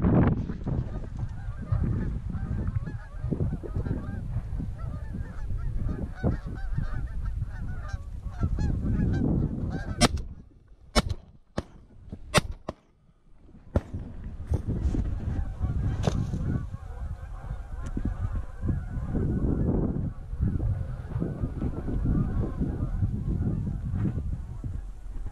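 A flock of geese honking as they fly in during a Colorado waterfowl hunt, continuous overlapping honks from many birds, loud and close, with a brief lull midway before the calling resumes.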